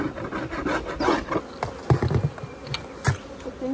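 Honey bees buzz around an opened hive while it is being split for a new queen. A soft, steady drone of insects sounds close by, mixed with faint scraping and rubbing of hive parts.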